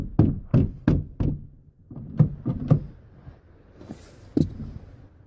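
Sliding door on a Mercury Villager / Nissan Quest with a newly replaced handle, locking and unlocking: a quick series of close, loud mechanical knocks and thunks in short bursts, then one final sharp clack.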